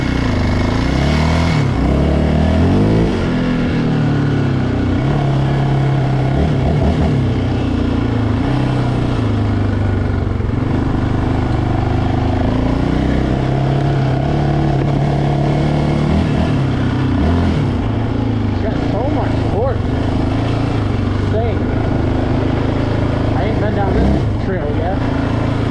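Yamaha Raptor 700R ATV engine droning loud and steady while riding, its pitch rising and falling as the quad is revved and throttled in low gears, with a rider's voice speaking over it.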